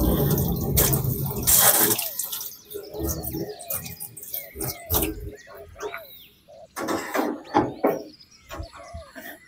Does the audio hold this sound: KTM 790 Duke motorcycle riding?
no